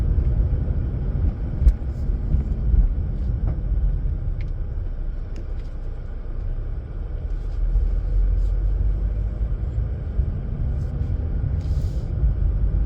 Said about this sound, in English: When it's safe, pull out of your parking spot and turn left.